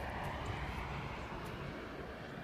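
An airplane flying over the Santa Rosa wildfire drones steadily at a moderate distance, a continuous engine roar that stays level throughout with no voices.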